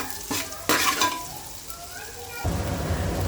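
Onions and green chilies frying in oil with whole spices like cinnamon, clove and bay leaf for egg biryani, a sizzle that flares as they drop in, with clinks of a spoon on the pot and a surge near the end.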